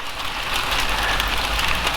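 Hail falls outside in Vancouver, a continuous hissing patter of small stones hitting surfaces that swells slightly midway and stays steady, moderately loud, with no talk.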